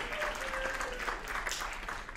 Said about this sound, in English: Can you do me a favor and clap if you have heard of National Public Radio